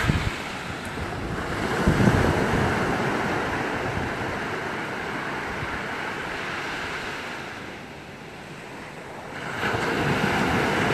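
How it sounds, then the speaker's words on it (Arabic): Sea waves wash back and forth on a beach, a steady broad roar with slow surges and retreats, mixed with gusty wind buffeting the microphone, with no voices. "بصوا الميه رايحه جايه دلوقتي، الميه اهي كانت على الكلمه ورجعت تاني"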